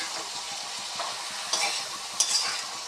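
Panch phoron spices sizzle in hot oil as a tempering with dried chilli and ginger for a vegetarian potato and greens dish, giving a steady close crackle with two brief louder pops partway through.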